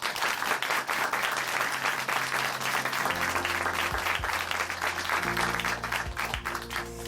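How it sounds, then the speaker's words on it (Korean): A church congregation in Chuncheon applauds in thanks after a testimony, a loud, dense wash of many clapping hands that holds steady for several seconds while soft music plays underneath. "다시 한번 박수 보내드리겠습니다"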